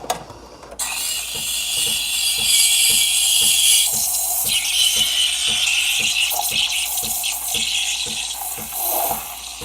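A Barista Express espresso machine's steam wand steams milk, giving a loud continuous hiss. A rapid, regular ticking pump rhythm runs underneath and starts abruptly after a brief quieter moment.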